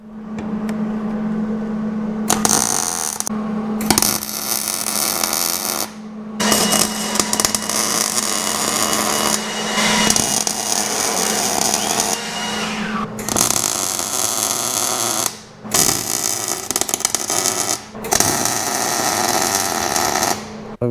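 Frame parts being cut out on a 1956 Chevy gasser in a garage, with loud bursts of a power cutting tool in repeated starts and stops separated by short pauses and a steady hum beneath.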